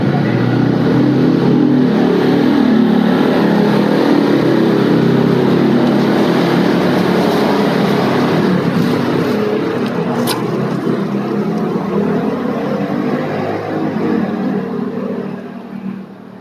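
A motorcycle passes along a quiet street, its loud engine drone steady and close throughout before easing off at the end.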